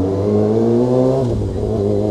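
A Kawasaki ZX6R motorcycle engine runs loud and close with a steady, humming note that dips slightly partway through, then holds again.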